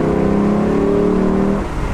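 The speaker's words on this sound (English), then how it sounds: "this has them all beat on sound, just as far as a pure, just glorious V8 sound" A 2021 Lexus LC 500 convertible's V8 engine holds a loud, smooth rev with a rich tonal drone, then eases off near the end, heard close and alone.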